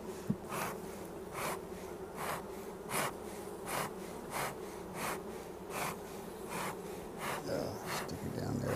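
Honeybees in an open hive box give a steady low drone with repeated soft rustling bursts about every half second, close and continuous, with no talking.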